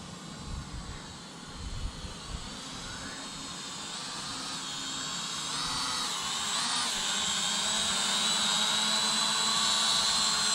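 A cheap RC drone whines overhead, its high buzzing rotor tone steady and gradually growing louder and closer over ten seconds, with no talk.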